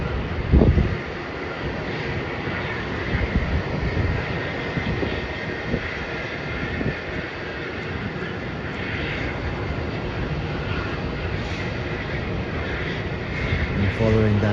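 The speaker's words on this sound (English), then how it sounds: "Next flight to land is a flight from Sydney, Boeing 737, and it's a Virgin Australia flight" A Virgin Australia Boeing 737 arriving from Sydney lands at Melbourne Airport, its engines making a steady, loud, broad roar that fills the whole stretch with little change, and some wind rumble underneath.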